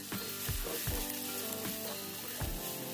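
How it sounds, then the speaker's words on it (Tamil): Ginger and garlic sizzle steadily in hot frying oil on a lowered flame for a Kerala-style fish curry, with occasional soft stirring knocks and no talking. "அந்த எண்ணெயிலேயே அடுப்பை குறைச்சி வச்சு நல்லா வதக்கிடணும்."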